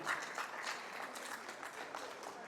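A crowd applauds for the group Zama Faso and its president at an anniversary exchange gathering, dense continuous clapping from many hands, even and moderately loud from start to finish.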